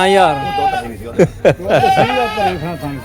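Goats bleat close by at a goat market, several wavering calls in quick succession mixed with brief sharp noises.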